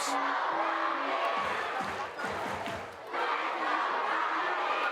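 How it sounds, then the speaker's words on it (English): A baseball crowd at a Somerset vs Binghamton game cheers and shouts continuously, a broad roar that dips briefly midway before swelling again, with a commentator's voice faintly underneath. "Crowd getting into it here."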